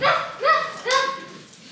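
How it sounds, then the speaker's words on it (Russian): Dogs bark close by in Montenegro: three loud, sharp barks in quick succession, each tailing off, with no one speaking over them. "Чё гавкаете?"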